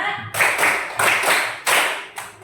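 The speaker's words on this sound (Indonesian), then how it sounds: "Tepuk 1, tepuk 2, tepuk 3, tepuk 4, tepuk 5," An elementary school class claps in unison as counted claps. Four sharp group claps land at a steady pace about a second apart, with a few scattered claps between them, loud and close in a room.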